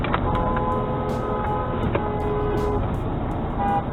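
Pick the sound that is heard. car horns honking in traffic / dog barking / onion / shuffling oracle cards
car horns honking in traffic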